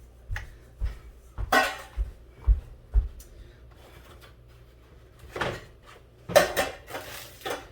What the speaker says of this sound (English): I'm going to go grab the cake pans